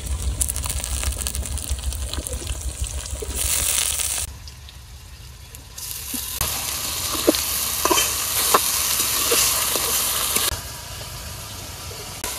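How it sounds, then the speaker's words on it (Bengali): Lentils added to a pan of lightly fried onion, garlic and chopped green chili, giving a steady loud sizzle and hiss with stirring scrapes that drops briefly and then surges again, with no talking. "পেঁয়াজ রসুন আমি একটু হালকা ভাজা দিয়ে নিছি, এবার আমি ডাল দিয়ে দেব"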